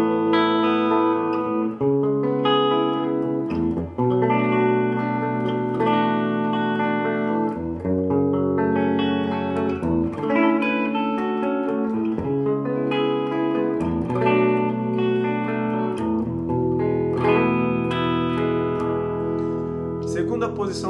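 An Epiphone ES-335 dot electric guitar plays through a Fender Princeton amp with a little reverb, set to the first pickup selector position; sustained strummed chords and melodic lines ring steadily and fill the whole stretch.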